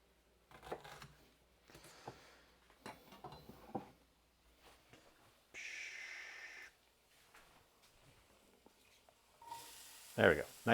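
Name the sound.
minced onion sizzling in a pan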